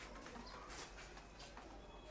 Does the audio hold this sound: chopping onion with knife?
no